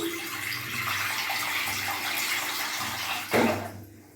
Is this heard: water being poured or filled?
yes